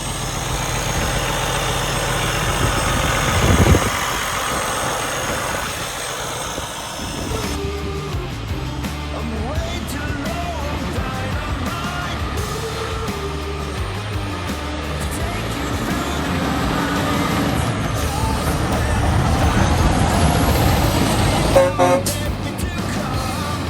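Heavy Peterbilt rotator wrecker truck with a 560 horsepower Cummins diesel engine, a loud continuous low rumble that shifts in tone partway through, with a brief horn-like toot and a person talking over it.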